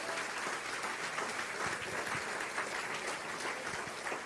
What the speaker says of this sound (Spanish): Dale un aplauso a Cristo por eso.